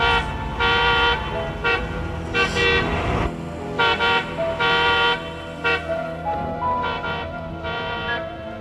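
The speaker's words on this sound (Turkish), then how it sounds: "Niye durmadan korna çalıyorsun?" A car horn honks repeatedly in short and longer blasts, an insistent irregular series sounding close by with traffic noise beneath.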